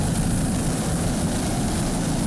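A helicopter flies over the 2002 Miami Offshore Grand Prix boat race with a steady, dense rotor and engine roar. The noise is loud and continuous, with no voices.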